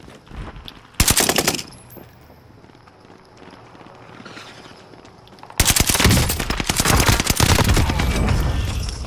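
Bursts of rapid automatic gunfire in Call of Duty: Modern Warfare, a short volley followed after a pause by a longer sustained stretch of loud shooting, with faint footsteps in the gaps.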